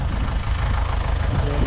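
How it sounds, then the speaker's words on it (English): A tractor engine runs steadily at close range during hay baling season, a continuous low rumble with no pauses. "The tractor's running good."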